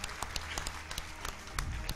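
A crowd at a local sports event claps in a brief burst of applause, with individual claps audible and fairly close.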